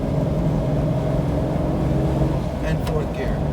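A 1969 Shelby GT500 V8 engine pulls hard as the car accelerates up through the gears, a loud, steady low rumble carrying under a voice talking over it.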